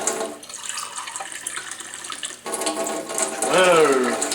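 Tap water runs steadily into a container, filled to measure out twelve cups for homemade ballistic gelatin; the flow is loud and continuous, grows fuller midway, and shows a rising pitch as the vessel fills.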